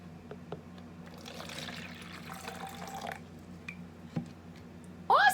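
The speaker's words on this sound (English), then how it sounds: "We're going to pour the water in our empty cup." Warm water trickling and splashing into an empty cup, a soft continuous pour near the mic with small drips, then a louder clatter at the very end.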